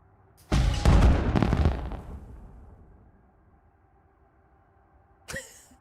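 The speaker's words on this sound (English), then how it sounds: "It's like a firework thing, isn't it?" Fireworks in the video game Elite Dangerous: Odyssey go off in a loud booming burst with crackling that slowly fades out, followed by a shorter second pop near the end.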